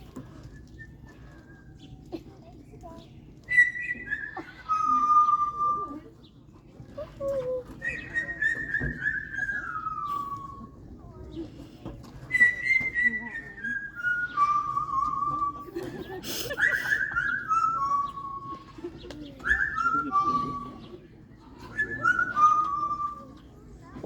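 A trained bird at a safari park whistles a series of clear descending whistled phrases, repeated at intervals over a quiet background with faint voices and occasional soft laughter.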